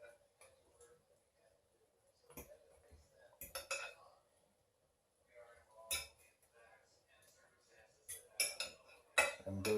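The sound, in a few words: baked pork ribs being flipped over in pan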